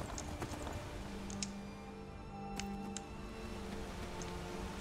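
Horse hooves clip-clopping in a steady trotting rhythm while riding across open land in the video game Skyrim, faint and even beneath a low ambient game soundscape with a sustained drone.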